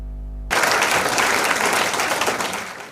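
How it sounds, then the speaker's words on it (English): A crowd of women bursts into loud, thunderous clapping at a public event, the applause starting abruptly after a brief tone and continuing dense and steady before tapering slightly. "Thunderous clapping erupts from people in appreciation of the fund to Benue women"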